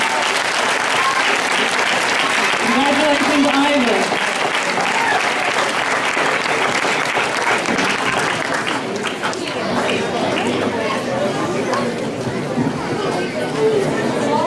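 An audience at a school board of education meeting claps loudly and continuously, with cheering and chatter mixed in, while a voice speaks briefly over the applause.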